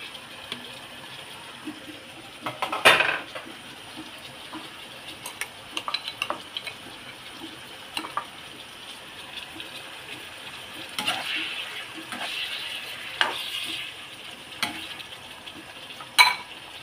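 Sardines and loofah stir-fried in a pan give a steady, close sizzle, with scraping stirring strokes and a few louder crackling bursts throughout, no voices.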